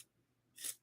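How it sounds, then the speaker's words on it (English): A single crisp snip of dull fabric scissors trimming a seam allowance on a Christmas dress, heard close and alone in a quiet room. "I use these scissors. These are my fabric scissors."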